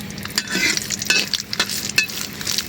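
Chilies and spices frying in a pan, with a steady sizzle under repeated scraping and stirring strokes of a utensil, close and fairly loud, no talking.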